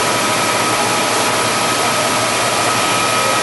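An American lathe, 21.5 inch by 102 inch, turning at 217 RPM, gives a loud steady broadband whir with a faint constant tone, unbroken throughout and without voices.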